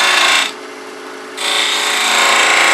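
A spindle gouge cutting a V-groove into wood spinning on a lathe gives a loud, steady broadband scraping hiss that drops away briefly before resuming.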